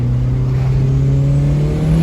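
A Mitsubishi DSM car running about 30 pounds of turbo boost holds a loud, steady engine drone with a slowly rising tone, heard from inside the car for a couple of seconds.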